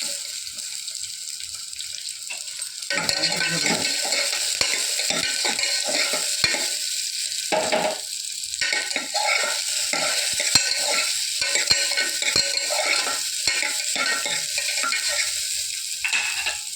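A large onion frying with fennel seeds in hot oil, a bright continuous sizzle with repeated scraping stirs close by, quieter for the first few seconds before the onion goes in.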